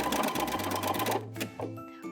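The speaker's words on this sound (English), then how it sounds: "I've set my machine to a broken zigzag stitch." A sewing machine stitches a broken zigzag hem on a sweater sleeve with the machine bed removed, a fast steady mechanical whir running up close, then stopping, followed by a few short clicks and whirs.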